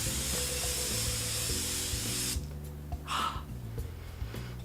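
Oxygen-propelled Do Me Over Skin Mist sprays from its bottle nozzle in one steady, close hiss lasting about two seconds, then stops, with soft background music underneath throughout.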